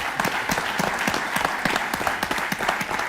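An audience at a televised Portuguese debate breaks into sustained, dense applause, many hands clapping loudly and evenly throughout.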